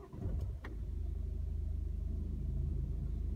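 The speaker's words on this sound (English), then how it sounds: "Vehicle now starts." A Ford Focus fitted with a Ghost 2 immobiliser starts with a brief crank, then settles into a steady, quiet, evenly pulsing idle heard close by.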